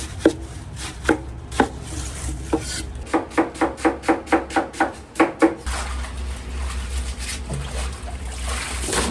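A knife chopping hard leftover noodle ingredients finely on a board at a fried-noodle stall in Japan, a run of sharp, close, rhythmic knocks that starts sparse, speeds into a steady volley, then gives way to a broad hiss.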